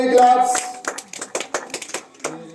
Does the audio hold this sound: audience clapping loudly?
yes